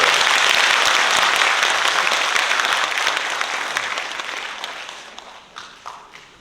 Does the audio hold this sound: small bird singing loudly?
no